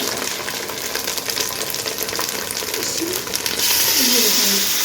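Tomato and chili paste sizzles and spits in ghee over browned onions, a dense, steady frying hiss that swells louder and brighter near the end as the paste hits the hot pan.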